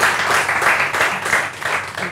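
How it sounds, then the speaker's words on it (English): A studio audience at a comedy podcast taping breaks into loud, dense applause, many hands clapping together continuously and close, swelling and dipping slightly throughout. "applause."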